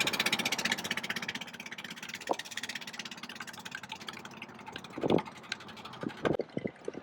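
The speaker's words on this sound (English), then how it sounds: "Racing boats here." Racing boat engines drone steadily with a rhythmic throb on a waterfront at Wangi-Wangi, Wakatobi, Indonesia, joined by louder passing revs and scattered knocks toward the end.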